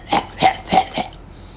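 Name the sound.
narrator imitating a wolf's tickling cough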